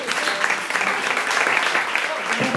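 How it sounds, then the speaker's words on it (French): A congregation at a church appreciation ceremony applauds in a thick, continuous burst of many hands clapping, loud and close, with voices blended into the clapping. "On applaudit sur Marie-Lou"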